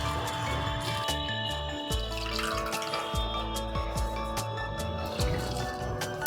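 Wet squelching and dripping as prawn shells are squeezed by hand to strain out water, close and steady, with clinks and small splashes throughout.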